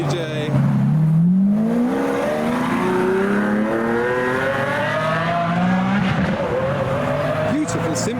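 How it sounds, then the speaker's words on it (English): A Lamborghini Aventador SVJ engine revs loudly and close, its pitch climbing in long sweeping rises and falls that fill the whole stretch with a roaring, howling note. "some more loud noises coming from the Aventador SVJ."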